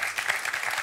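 A studio audience at a French quiz show claps in a dense, even wash of applause, steady and moderately loud for the brief moment, with no voice over it.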